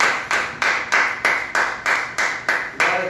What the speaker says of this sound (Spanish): vamos a darle un fuerte aplauso a Dios en el nombre de Jesús